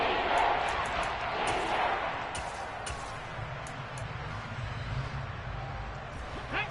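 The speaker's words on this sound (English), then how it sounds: "Crowd getting in it a bit already." Stadium crowd at a Houston Texans NFL football game makes a broad, steady roar that swells early and then settles into a sustained wash, with announcer talk over it.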